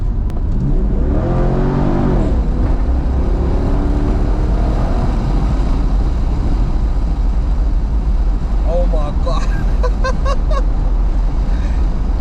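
A 2000 Chevrolet Corvette C5's V8 roars as it accelerates, a loud, steady engine drone with rising pitch heard from inside the car, a voice exclaiming briefly over it.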